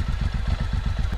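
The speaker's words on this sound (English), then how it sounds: "Better let the bike warm up a little." Suzuki M109R motorcycle engine idling while warming up, a deep, rhythmic low thump pulsing steadily at close range, fairly loud, with no speech.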